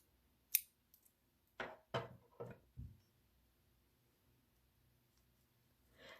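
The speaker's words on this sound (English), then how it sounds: "Grab my scissors really quick." Scissors snip yarn during a crochet granny star motif, a sharp click followed by a few quick close snips and short rustles, then quiet.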